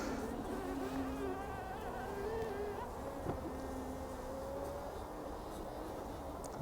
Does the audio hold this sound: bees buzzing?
yes